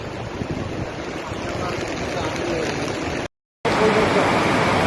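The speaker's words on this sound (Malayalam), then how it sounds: "ആ ലെവലിലാണ് ഇപ്പോൾ വെള്ളം ഒഴുകുന്നത്." Floodwater of a swollen river rushes at Chooralmala in a steady, loud roar mixed with wind buffeting the microphone, briefly cut by a moment of silence, with a voice faintly audible underneath.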